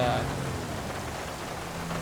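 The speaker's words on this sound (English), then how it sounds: "The rain makes it 50 times harder to drive" Steady rain in GTA 5 while driving, a dense even hiss of falling drops with a faint low engine hum underneath, constant and moderately loud.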